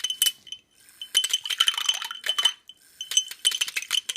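A PIFCO vintage retro silver cocktail drinks stirrer spins inside a glass, giving bursts of rapid, bright clinking and rattling that start and stop in short runs, close up and fairly loud, with no talk.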